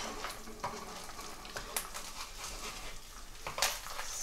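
An egg sizzles and spits steadily in a hot pan beside pea pilau rice, with a few sharp crackles and pops rising over the constant close frying hiss.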